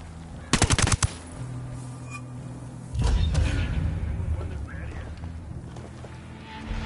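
Submachine gun fire in a video game: a tight burst of rapid shots, then heavier rumbling gunfire and mechanical clatter that fades off.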